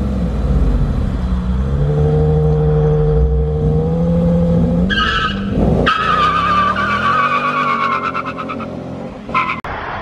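Two cars, a stock Infiniti G35 and a Mustang 5.0, race past with engines rising in pitch, then a loud tire skid and a roaring pass near the end, heard close and continuous without talk.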